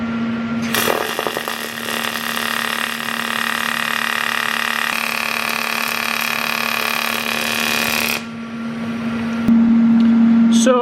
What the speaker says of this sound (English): I'll just give it a good pulse and melt that onto the aluminium plate itself